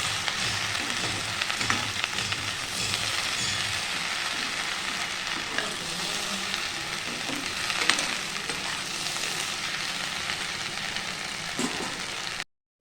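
Okra fries in a pan alongside potatoes, giving a continuous soft sizzle with light stirring clicks throughout, close and fairly quiet, ending suddenly.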